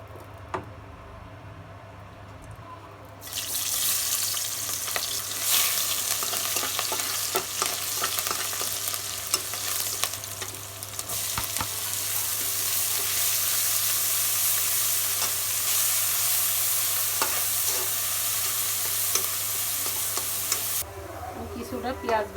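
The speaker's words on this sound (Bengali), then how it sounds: "কড়াইতে আমি কিছুটা তেল দিয়ে পেঁয়াজ ভেজে নেব।" Onions frying in oil in a wok for a meat dish, a loud steady sizzle that starts abruptly and continues with stirring scrapes and ticks, then cuts off near the end.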